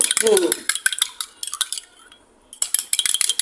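Eggs being beaten in a bowl for an egg soup, giving quick bursts of clinking, scraping strokes with a brief pause midway, close and fairly loud, with no talking.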